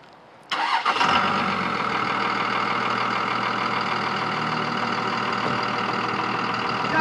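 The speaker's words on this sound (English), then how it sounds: "Starting this truck up" A Cummins diesel truck engine cranks briefly and fires, then settles into a loud, steady, rumbling idle close by, with no talk.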